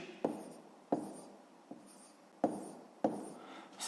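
Pen on paper writes numbers for a sixth-grade maths exercise, giving five close, quiet scratching strokes, each starting with a sharp tap and fading, spaced unevenly over a few seconds.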